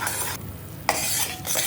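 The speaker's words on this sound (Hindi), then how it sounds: "अब हम यहाँ पे चाशनी को पकाएंगे" Sugar syrup for mohanthal bubbles in a pan while a spoon stirs it, a bright close hiss broken by a short quiet gap and a scraping clink.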